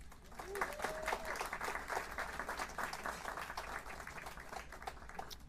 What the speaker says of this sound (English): I do want you to give a round of applause to this ensemble.